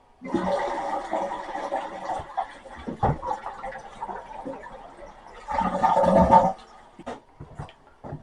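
A household toilet flushing with its water supply valve shut off, water rushing and gurgling in surges over several seconds, close and fairly loud with no talking.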